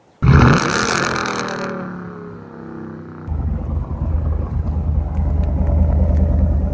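A Ram pickup with a 5.7 HEMI V8 and straight-piped exhaust fires up with a loud sudden roar that sweeps down. After a few seconds it drops into a deep, lumpy, rumbling idle, close and unbroken.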